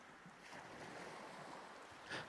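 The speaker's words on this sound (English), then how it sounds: "the waves gently roll towards the shore" Gentle sea waves rolling toward a shore make a soft, steady wash with wind noise, faint and distant, swelling slightly into a brief louder surge near the end.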